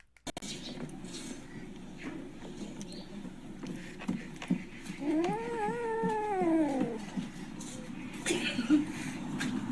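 A cat fighting a dog lets out a drawn-out, wavering yowl in the middle, rising and falling, over a constant background rustle and low rumble.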